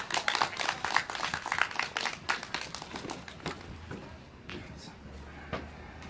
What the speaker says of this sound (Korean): 큰 박수로 무대로 맞이해 주시면 고맙겠습니다